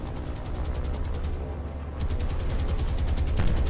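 Anti-aircraft fire in War on the Sea, a steady rapid stream of gun bursts over a heavy rumbling drone, briefly thinning before resuming louder.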